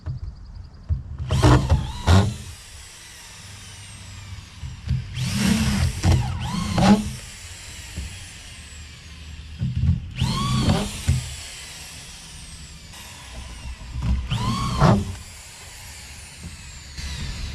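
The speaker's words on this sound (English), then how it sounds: "you got to take the other drill and finish drilling them in." A power drill whirs in several short bursts with pauses between, driving 3-inch screws into plywood flooring over beams, close and fairly loud.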